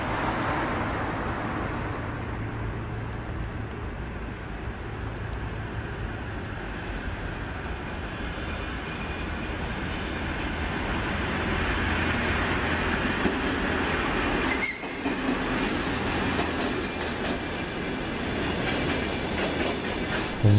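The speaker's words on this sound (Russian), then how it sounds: "Посмотрим на дизель-поезд на видео" A diesel train rolls past loudly and continuously, wheels rumbling and clacking on the rails with occasional squeals, growing slightly louder over time.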